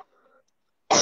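A woman gives a single sharp, close cough near the end, after a short faint murmur and near silence.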